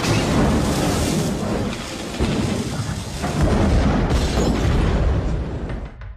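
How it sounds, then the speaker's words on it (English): A car bomb blows up a 1983 Cadillac Eldorado in a fireball, a massive rumbling boom with long roaring, crackling debris that stays loud and dense for several seconds before starting to thin out. "climbs into his 1983 Eldorado, turns on the ignition, and is engulfed in a fireball"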